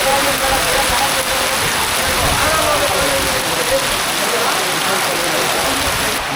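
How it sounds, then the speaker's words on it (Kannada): Heavy rain pours down on the Sabarimala forest trek route, a dense, loud, unbroken hiss of rainfall filling the whole stretch without letup. "ಮಳೆ ಸ್ಟಾರ್ಟ್ ಆಯಿತು ಅಂದರೆ ಹಿಂಗೆಲ್ಲ ಭಯಾನಕ ಮಳೆ ಹೋಯ್ತೈತೆ"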